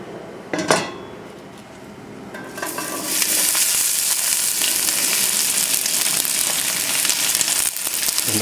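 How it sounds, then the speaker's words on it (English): Asparagus and mushrooms hit a smoking-hot pan with a burst of loud sizzling, then a steady, dense frying hiss with occasional clinks and scrapes of stirring, close up. "that pan is smoking hot, so we will now saute."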